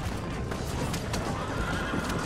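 A horse whinnies in Red Dead Redemption, a loud close neigh over clip-clopping hooves and a dense wash of game noise throughout.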